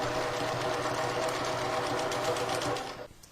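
A Janome 1600P sewing machine quilting on a Grace quilting frame, a fast continuous close hum of stitching that runs steadily and then stops abruptly near the end.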